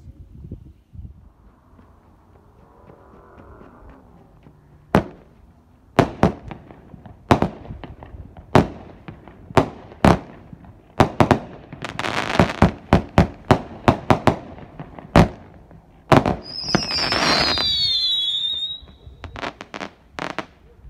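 A Tiki 18-shot red apple fireworks cake firing rapid bursts of loud, sharp bangs, accelerating into a dense crackling barrage, with a brief whistling whine near the end.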